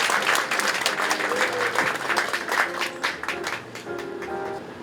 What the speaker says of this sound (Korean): 여러분 박수로 맞아주시겠습니까?